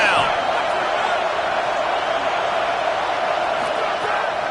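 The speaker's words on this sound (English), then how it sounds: "Decibels rising as the crowd gets behind this defense on third down." Loud, sustained roar of a college football stadium crowd cheering for the defense on third down in a Notre Dame–Michigan game, a dense unbroken wall of noise that swells steadily throughout.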